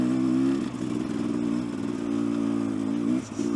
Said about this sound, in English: Hill climb on a dirt bike.